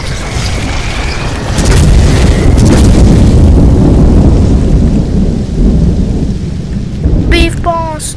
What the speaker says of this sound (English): Oh, lightning striking.